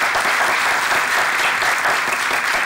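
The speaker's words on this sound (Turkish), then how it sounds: "Ben de seni alkışlıyorum." Sustained, dense applause from a group, steady and loud throughout with no pauses.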